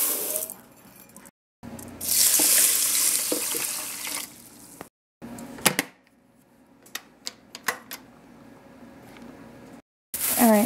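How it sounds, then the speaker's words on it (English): Water pours into a rice cooker with a bright, rushing splash for a couple of seconds, followed by scattered clicks and taps of handling. "I'm going to do 4 cups of water."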